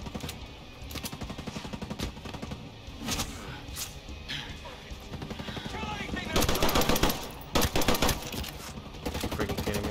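Rapid automatic bursts from a Vector submachine gun fitted with a short barrel fire in the shooter game Ghost Recon Breakpoint, with repeated rattling volleys of varying length, loud and close, mixed with other gunfire and someone talking.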